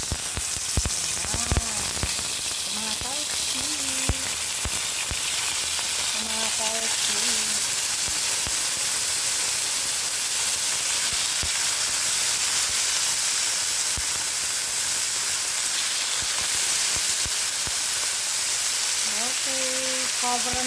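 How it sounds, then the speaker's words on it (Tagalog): Pork pieces fry in hot oil in a pan, giving a steady dense sizzle throughout, with a voice talking intermittently over the crackle. "Ipiprito na natin to."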